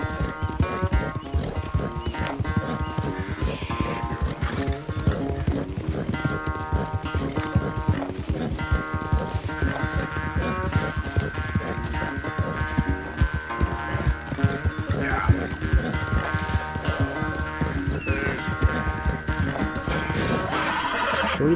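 A horse in the Red Dead Redemption 2 video game gallops with rapid, steady clip-clop hoofbeats and neighs repeatedly, over continuous loud game sound.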